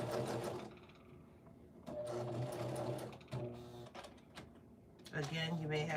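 Home sewing machine stitching a quarter-inch seam in fabric, a close, steady mechanical whir that runs in bursts and stops, while someone talks over it.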